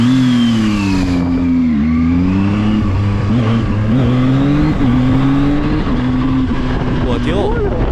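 A ZONTES 703F motorcycle, still in its break-in period, runs on a road test ride with a loud, close, continuous engine drone whose pitch rises and dips smoothly through gear shifts.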